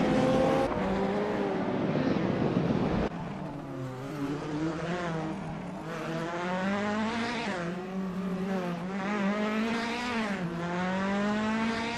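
Race cars in a racing video game scream past with high, rising and falling engine whines, gear shifts and several cars overlapping, loud and continuous.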